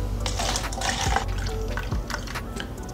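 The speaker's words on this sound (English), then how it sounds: "You pour a cup." A drink is poured into a cup in a steady, continuous liquid stream with small splashing trickles throughout, close and fairly quiet, with no voices.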